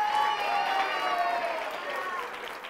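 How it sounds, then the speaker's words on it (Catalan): A studio audience applauds and cheers a school team from Badia del Vallès after a close quiz-show semifinal, sustained clapping with excited voices rising above it, loud and continuous. "un aplaudiment i molt fort per l'Institut Frederic Montseny de Badia del Vallès"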